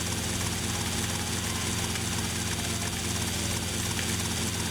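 A damaged, smoking helicopter in GTA Vice City drones with a continuous, loud engine and rotor hum that holds steady from start to finish.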